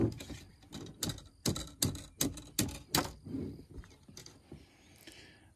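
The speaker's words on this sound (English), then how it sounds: "I'll just flip it around to where the cleaner side goes through. and repeat the process" A cleaning pad pushed through a gun barrel, heard as a series of sharp, close mechanical clacks and scrapes in an irregular rhythm, about a dozen strokes that fade into softer rubbing toward the end.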